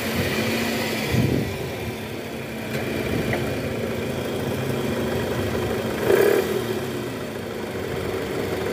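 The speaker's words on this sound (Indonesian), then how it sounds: "Dia ada bunyi ker di area mesin." A Toyota Camry engine with a rough, worn balancer starts up and keeps running in a steady, close idle, a growling drone with a couple of brief louder surges partway through.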